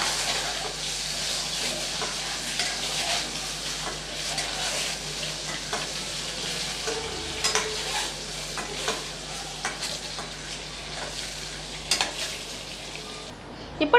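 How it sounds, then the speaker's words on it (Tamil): Boiled eggs frying in masala for a coconut-milk egg curry, a steady close sizzle with scraping stirs and small spatters running throughout, no talking. "ஒரு 2 நிமிஷம் மட்டும் இந்த மசாலாவில் நம்ம இதை வறுத்து விட்டுக்கலாம்."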